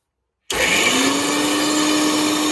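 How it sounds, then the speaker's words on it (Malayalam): An electric mixer grinder starts abruptly and runs at a loud, constant whirring pitch as it crushes chopped ingredients, with a steady motor drone and no pauses. "ഞങ്ങൾ മിക്സിയിൽ അടിച്ചിരിക്കുന്നത് ഒരൊറ്റ കറങ്ങി കൂടെ കറക്കി എടുത്തായിട്ടോ"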